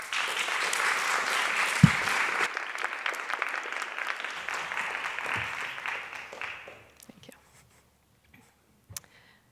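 Audience applause fills a lecture hall welcoming a speaker to the podium, steady and sustained for about seven seconds before fading out into near silence with a few scattered claps and small noises.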